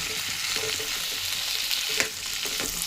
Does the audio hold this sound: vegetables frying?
yes